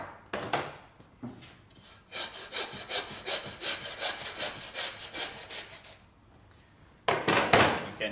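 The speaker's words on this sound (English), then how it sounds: "just sawing through the bone, not the meat" A hand saw cuts through lamb shoulder bone in brisk, rhythmic back-and-forth strokes, close and clear, with a short pause before a final few rasping strokes.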